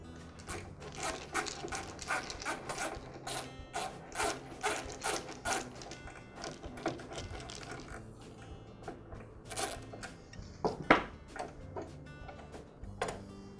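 Guard linkage screw being unscrewed on a DeWALT miter saw, a quick run of small, close clicking ticks from a ratcheting tool, uneven in pace and fairly quiet.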